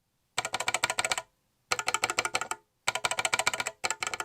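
Keys on a £25 budget Amazon mechanical keyboard with modded, lubed switches clack in three quick bursts of rapid typing, crisp and close, separated by short silences.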